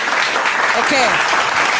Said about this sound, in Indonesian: Nggak akan tepuk tangan dulu buat Tuhan